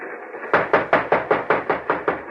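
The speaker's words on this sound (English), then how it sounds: "knock and yell for the guards to open the door to the mail car" Eight firm, evenly spaced knocks on the door of a train's mail car, a radio drama sound effect, close and loud with no voices over them.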